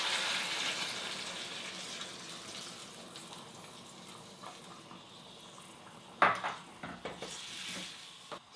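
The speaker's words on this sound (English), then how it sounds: "And now let's add the vegetable stock." Vegetable stock is poured into a pot of sizzling onions, coriander and ginger for pumpkin soup, giving a steady hiss and bubbling, with clanks of a utensil against the pot near the end.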